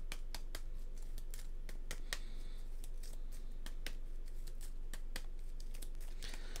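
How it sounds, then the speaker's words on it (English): Century Spice Road Automa game cards are shuffled together on a table, giving a quick series of crisp, close paper snaps and riffles at an uneven rhythm over a quiet background. "we're going to shuffle all these together"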